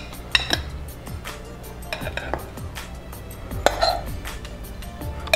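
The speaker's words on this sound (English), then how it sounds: "We're gonna spoon this out because it's thicker." A spoon scrapes and clinks against a baking dish while a thick cheesy chicken mixture is spooned out, with several sharp metallic taps and soft scraping at close range.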